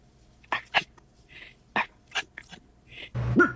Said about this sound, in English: You whisper bark. You go woof.